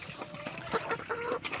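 Chickens cluck softly in short scattered bursts while pecking at scattered feed, faint and close, brief and unsteady.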